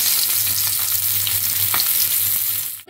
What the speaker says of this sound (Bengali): এবার আমি উল্টে পাল্টে মাছগুলোকে ভেজে নেব।